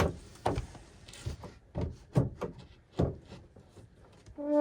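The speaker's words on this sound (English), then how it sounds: "So let's see if the drawer slides back in." An RV drawer under the fridge is pushed back into place, giving a run of irregular wooden knocks and thunks, some near and sharp, ending in a brief tonal sound.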